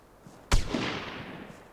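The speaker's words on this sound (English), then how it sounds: "As a shotgun goes off." A single sharp shotgun blast from the video game Vigor, heard once at moderate distance with a short echoing tail that fades slowly, set in an otherwise quiet game ambience with no talking.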